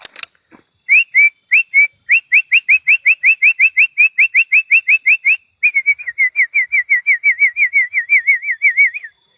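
A person whistles a rapid series of bright, rising bird-like notes, dozens in a steady rhythm, loud and close, imitating a songbird, the white-rumped shama.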